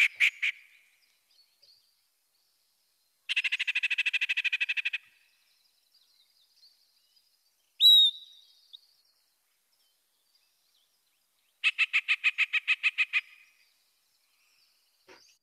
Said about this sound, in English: let's take a listen to the many sounds of the yellow-breasted chat